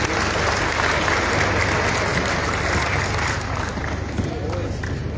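Conference audience at an inaugural session of a national agricultural debate in Meknes bursts into sustained applause, a dense, loud wash of clapping that holds steady and eases slightly toward the end.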